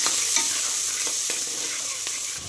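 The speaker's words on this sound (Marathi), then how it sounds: "कच्चा मसाला छान हे झाला की त्याच्यामध्ये कांदा टाकून घ्यायचा। कांदा छान लाल करून घ्यायचा।" Onion frying in oil with raw masala for a village-style mutton rassa gives off a steady, close sizzle, broken every so often by the scrape of a stirring spoon.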